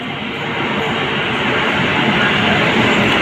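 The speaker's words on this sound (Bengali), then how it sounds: "দেখেন আমাদের মেট্রো চলে এসছে।" A Kolkata East West Metro train on India's first underwater line arrives at a station platform, a dense rushing roar that swells slightly and then holds loud and steady.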